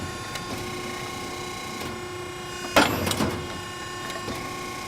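Piranha ironworker machine punching a hole through steel: one sharp, loud metallic punch and clatter near the middle, over a steady motor hum and drone.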